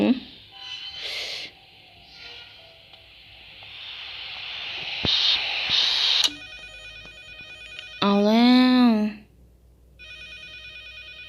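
A telephone rings in the horror video game Endless Nightmare, heard inside a police officer's house with a locked door. It rings in repeated electronic tone bursts over a hissy background, with a brief voice sweeping through the middle.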